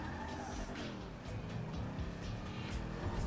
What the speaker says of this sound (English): I'm sitting here revving